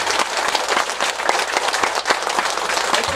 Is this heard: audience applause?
yes